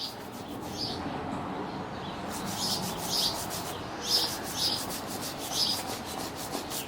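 A hand rubs across the rough, un-clay-barred roof paintwork of a rare hot hatch outdoors, giving a steady low scraping rasp, while birds chirp in short bursts in the background.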